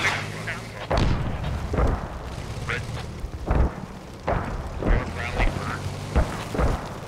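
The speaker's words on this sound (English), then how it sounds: "The barrage is probably close to being up." Artillery barrage in the tactical shooter video game Squad: a series of heavy booming impacts land every second or so, some close and loud, others more distant, with game ambience between them and talk underneath.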